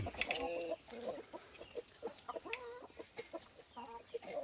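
A broody Rhode Island Red hen clucks close by in a series of short, irregular low clucks and murmurs, quiet overall with brief pauses between calls.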